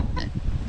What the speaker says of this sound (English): here's all my pigs. I've got 5 of them.